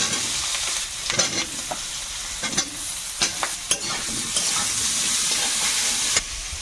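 Potatoes fry in hot oil with whole cumin and chopped onion, giving a steady bright sizzle broken by occasional scraping stirs and louder crackles.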